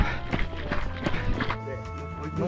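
A horse runs close by, its hooves striking in a quick, rhythmic clip-clop that gradually thins out toward the end.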